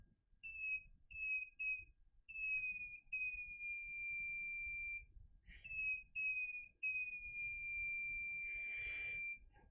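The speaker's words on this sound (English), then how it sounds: "it does eventually reach a rather standard multimeter tone, but there's this very definite sort of pew as it gets there" A JDS2012A multimeter gives off repeated buzzer tones: several short beeps, then a long steady tone, then more beeps and another sustained tone, fairly loud against a quiet background.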